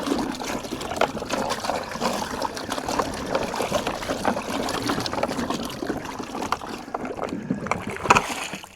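Water sloshes and trickles around inside a container being rinsed out ahead of cider making, a steady close splashing and swirling that runs without pause for the whole stretch.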